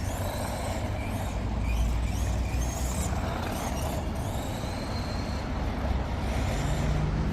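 An HPI Blackzon Slyder MT radio-controlled monster truck driving outdoors on slick ground, its steady buzzing motor whine running continuously with faint rising and falling pitch sweeps, no voices.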